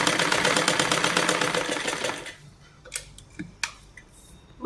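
Sewing machine stitching the front section of a blouse: a rapid, steady mechanical whir for about two seconds, then it stops and a few light, scattered clicks and taps follow.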